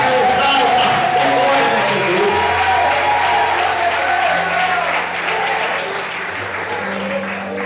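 A church congregation applauds in praise of Jesus, a loud sustained clapping crowd with low sustained organ or keyboard tones running underneath and voices faintly mixed in.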